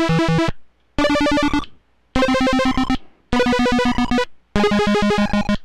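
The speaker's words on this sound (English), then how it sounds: "the bytebeat will just continue to play" A Prismatic Spray bytebeat synth loops an equation that restarts with each MIDI note, producing five bursts of buzzy, harmonically dense digital tones, each stepping through rapid pitch patterns and separated by brief silences. The sound is loud and close, with no talking.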